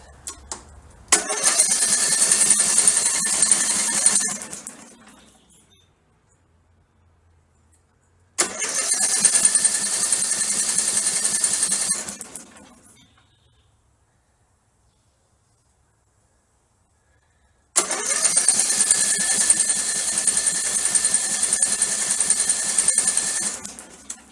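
A Generac/Troy Bilt 01925 vertical generator engine, with its spark plug removed, cranks over in three separate bursts of about four seconds each, with silent pauses between them. The engine never fires.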